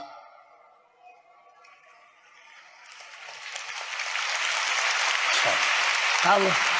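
Applause from a large assembled audience at a religious ceremony swells gradually from faint scattered claps into a loud, steady ovation, with a voice briefly heard near the end.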